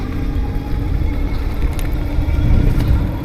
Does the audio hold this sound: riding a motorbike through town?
yes